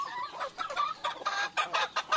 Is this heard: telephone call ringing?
no